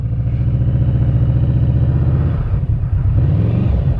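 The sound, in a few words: Yamaha V-Max motorcycle engine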